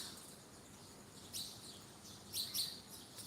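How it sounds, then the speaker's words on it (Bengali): Several birds chirp outdoors in a calm setting, with brief bright calls around the middle and a busier cluster of tweets near the end over a faint background hiss. "এই যে পাখিগুলো উঠতেছে"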